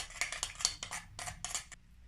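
A spoon stirs melted cacao chocolate melts in a bowl, giving a run of light scraping clinks roughly every quarter second, close and moderately quiet, then falling silent near the end.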